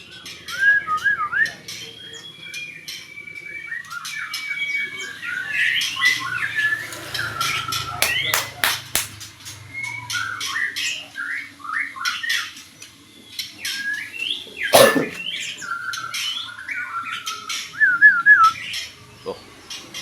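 Caged songbirds in a bird-keeping setting chirp, whistle and squawk in busy overlapping bursts, with one sharp loud call partway through, close and lively against a quiet background.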